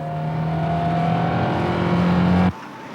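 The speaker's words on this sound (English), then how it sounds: "Hunt is trying to be neat as he slides the car around the corner" Formula 1 racing car slid around a corner by driver Hunt, its engine a loud, close, sustained roar holding a steady pitch before cutting off abruptly near the end.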